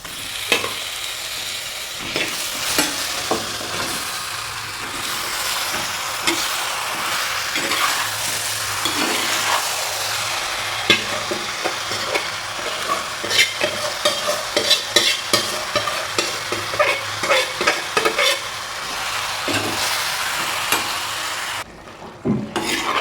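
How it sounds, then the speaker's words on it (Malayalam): Kerala-style chicken roast with a ground spice paste and no added water, stirred and fried in a pan: a continuous sizzle with repeated scraping and clinking of a spoon against the pan, close by, no voices. "നമ്മുടെ റോസ്റ്റ് അങ്ങനെ നല്ലതുപോലെ ഇളക്കി കൊടുത്തിട്ടുണ്ട്."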